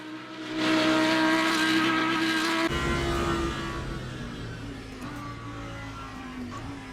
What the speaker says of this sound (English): enjoy the noise of this monstrous little car